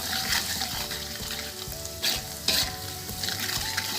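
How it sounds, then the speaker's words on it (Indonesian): Chili and seasonings frying in a pan, stirred with scraping and clinking strokes over a continuous soft sizzle, close and moderately quiet. "Terus aduk sampai asak"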